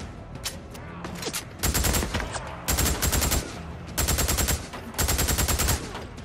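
Rapid bursts of automatic gunfire in the video game Days Gone, four or five loud, close sustained volleys separated by brief pauses, with scattered lighter shots between.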